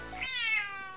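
A mixed-breed house cat gives a single clear meow that rises and then trails off, close to the listener, with no one speaking over it.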